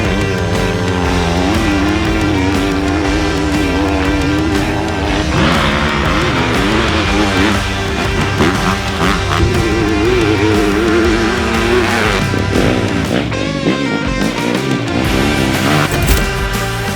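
A Triumph TF250C 250F dirt bike ridden off-road, its single-cylinder engine revving loud and close with rapid rising and falling pitch as the rider shifts and throttles through the trail, continuous without talk.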